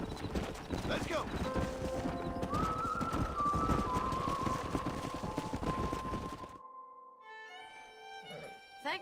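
A stallion gallops in Red Dead Redemption, rapid hoofbeats drumming loudly for several seconds, tonal music and effects layered over it, then cutting out abruptly before softer game sounds resume.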